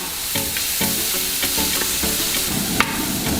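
Chopped green chilies sizzle in a hot pan of browning onion for a Kerala mackerel fish fry masala, a dense close crackle with regular scraping stirs and one sharp tap near the end, no voices.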